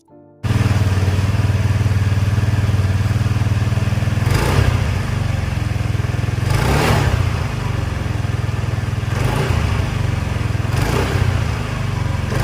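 A 2012 Honda Vario 110cc scooter engine idles steadily and loud, with several short revs of the throttle spaced a couple of seconds apart.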